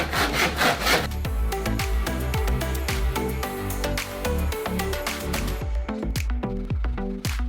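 A hand saw cuts through wood on a workbench in long back-and-forth strokes, loud and close, its rhythmic rasping strokes repeating steadily throughout.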